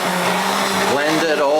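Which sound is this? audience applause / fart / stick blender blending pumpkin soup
stick blender blending pumpkin soup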